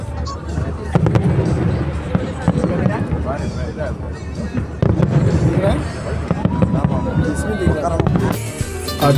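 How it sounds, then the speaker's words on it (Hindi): Fireworks go off over a Bangkok river cruise, with repeated sharp bursts and crackles at close to middling distance. A crowd murmurs and voices chatter underneath throughout. "बहुत ही सुंदर फायरवर्क्स था।"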